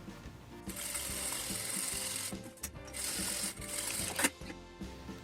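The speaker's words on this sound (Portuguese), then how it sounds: "passar uma costura reta começando aqui, dou um retrocesso, costura até aqui" A sewing machine runs a straight seam with a quick backstitch at each end, giving a fast mechanical whir in several bursts separated by short pauses, close and fairly quiet.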